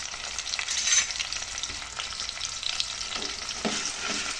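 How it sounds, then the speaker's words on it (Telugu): Mutton pieces fry in a pan for keema, a close sizzle with a few stirring scrapes, moderately quiet and continuous over a few seconds. "కలర్ వచ్చే వరకు దీన్ని మంచిగా వేపుకోవాలండి."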